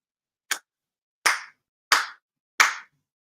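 Four sincere hand claps at a prayer service, sharp and close, evenly spaced after a short opening pause, with silence between them.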